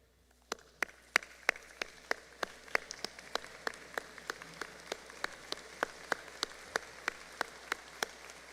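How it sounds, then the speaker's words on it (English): Applause at an August 2020 Drury University graduate commencement ceremony, sounding as sparse, evenly spaced claps from a small, distant audience in a large hall. "give you a round of applause"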